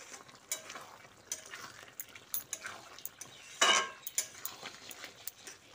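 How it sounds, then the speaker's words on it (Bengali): A spoon stirs ridge gourd and poppy seed curry after raw mustard oil is drizzled on, giving soft scraping and clinking against the pan in irregular strokes, with one louder clatter near the middle. "সর্ষের তেলটা দিয়ে মিশিয়ে নিচ্ছি।"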